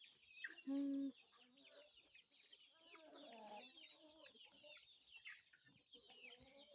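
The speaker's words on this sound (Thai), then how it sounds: "นี่ก็จะเป็น ไก่พูที่เป็น ลูกแจ้ชื่อว่าคือคนที่สองผมนะครับ ชื่อว่าแจ้ติดเทอร" Bantam chickens clucking and chattering softly nearby, with a short, loud squawk near the start and faint background voices.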